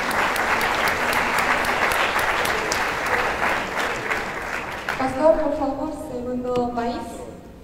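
Applause from a crowd at a youth summit gathering, a dense, steady wash of clapping that fades after about five seconds while voices take over beneath it.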